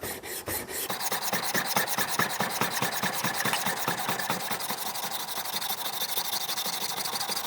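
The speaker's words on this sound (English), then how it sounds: "I'm just going to go ahead and try to flatten the majority of the back of this chisel" Steady rhythmic scraping of a steel chisel back rubbed flat on an abrasive surface, close and continuous, repeated quick strokes with no talking.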